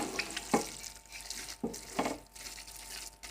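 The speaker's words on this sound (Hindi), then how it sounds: "बस हमने ऑयल के साथ इसको इतना भुनाई करना है कि ऑयल जो है वो सेपरेट हो जाए" Grated carrot halwa being fried and stirred in oil, with soft scraping and faint sizzling in a few short bursts, quiet and close, with no talking.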